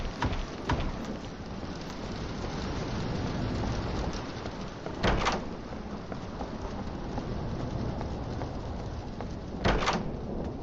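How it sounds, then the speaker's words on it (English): Steady rain falls in the Roblox game Doors, a dense, even patter that fills the whole stretch, broken twice by sharp, brief impact-like bursts about five seconds apart. "I hate how much the rain sounds like Rush sometimes."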